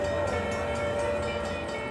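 Steady, loud train sound effect from a Railroad Riches slot machine bonus at the Peppermill casino, a sustained rumbling with a whistle-like tone holding throughout.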